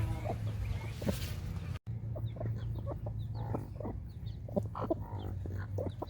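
Mother hens with their young chicks make steady clucking and soft peeping calls, with repeated short chirps over a constant low hum, close and moderately loud, with no talking.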